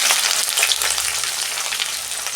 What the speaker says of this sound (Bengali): পেঁয়াজটা আমি লাল লাল করে ভেজে নেবো 2 মিনিট